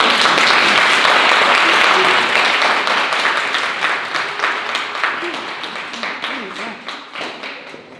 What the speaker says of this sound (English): Y'all just kept clapping.